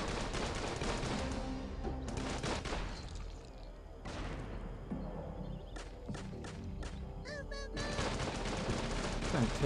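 Rapid video game gunfire from Gatling gunners in Tiny Troopers 2, a blizzard ambush mission, rattles almost constantly, with sharper scattered shots and small blasts near the end over a dense battle background.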